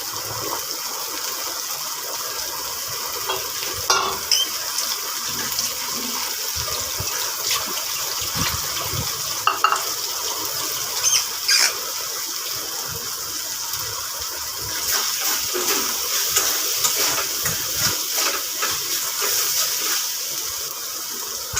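Chopped ridge gourd sizzles in a pan of hot oil with sesame seeds, a steady hissing fry with occasional crackles and metallic clinks throughout.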